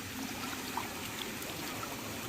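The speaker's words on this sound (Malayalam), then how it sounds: "ഇതുണ്ട് അവിടെ നിന്ന് ഒഴുകി വരുന്ന വെള്ളമാണിത്" Water flows and trickles steadily, a constant broadband rush with faint splashes and no voices.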